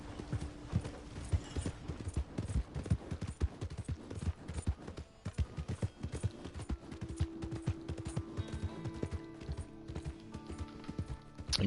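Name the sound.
horse trotting hooves in a video game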